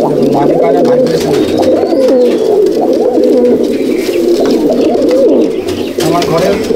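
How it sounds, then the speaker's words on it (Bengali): A loft full of black Madrasi pigeons in Halisahar, North 24 Parganas fills the space with steady, close, overlapping guttural cooing, with a voice speaking over the birds at times. "আমার ঘরে যত কালো পায়রা আছে"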